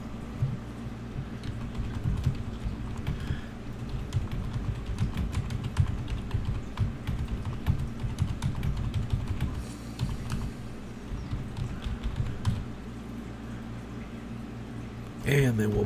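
Typing on a computer keyboard produces a continuous run of quick, close key clicks, with a low background hum underneath throughout.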